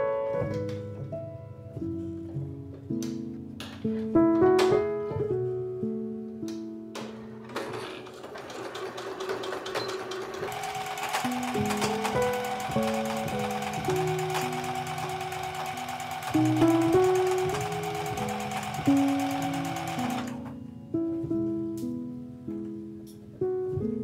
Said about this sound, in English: Sew on the stitch line with a narrow zigzag stitch from one shoulder seam to the other.